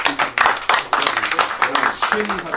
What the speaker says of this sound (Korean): 자, 박수를 다시 한번